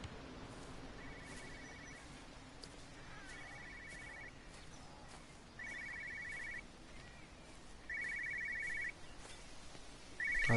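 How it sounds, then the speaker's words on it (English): A telephone rings in the video game Everybody's Gone to the Rapture: five short, bright trilling bursts, evenly spaced about two seconds apart. Each ring grows a little louder over a steady low background hum, with no voices. "Oh, there's a phone."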